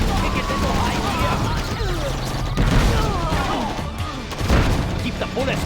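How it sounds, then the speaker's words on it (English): A Gatling tank's rapid gunfire in the game C&C Generals, a loud, dense barrage of shots and crashing impacts with explosions, while voices talk over the battle. "Keep the bullets flowing. Rapid fire."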